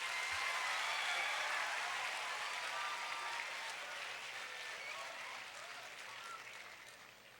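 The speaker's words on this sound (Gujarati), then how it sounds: "a big round of applause" Audience applause at the start of a counselling programme hosted by an institute's Ahmedabad branch, a dense, sustained wash of clapping that slowly fades toward the end.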